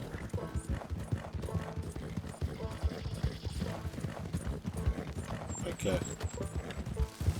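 Horses' hooves clip-clop steadily through Red Dead Redemption 2, a rapid drumming rhythm with an occasional whinny, close and continuous while someone briefly speaks over it.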